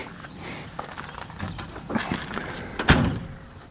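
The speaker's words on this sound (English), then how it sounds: "Doors shut solid." A V6 Baja Bug's door shuts with one solid, sharp slam near the end, preceded by softer handling clunks and rattles up close, with no talk.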